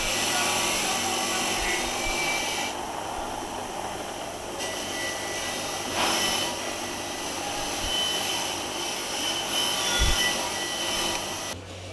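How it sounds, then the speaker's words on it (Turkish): Wire brushing of the exhaust manifold on a Renault Clio 2 1.6 engine during a rebuild, a steady, harsh whirring scrape that continues throughout at close range in a workshop. "Egzoz manifoldu telleniyor."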